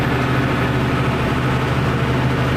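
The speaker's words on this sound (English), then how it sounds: "Hear that big 6-cylinder engine?" Big 6-litre six-cylinder diesel engine of a tractor running steadily from inside the cab, a continuous low rumble with a deep droning hum throughout, no talk.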